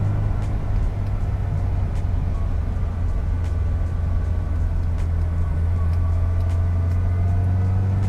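A restored 1979 Ferrari Dino 308 GT4 cruises at partial throttle, heard from inside as a steady low engine drone with road rumble, smooth and continuous throughout.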